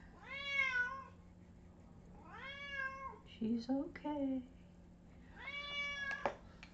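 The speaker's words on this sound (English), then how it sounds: "sorry about the kitty." A cat meows three times in long, drawn-out cries at a moderate distance, with a person speaking softly between the calls.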